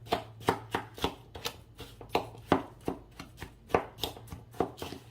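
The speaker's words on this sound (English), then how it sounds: "I want to grab my spoon," A spoon breaking up brown sugar with cinnamon for a peach crisp crumble topping, heard as a steady series of close, sharp scraping and tapping strokes, about two per second, with no talk.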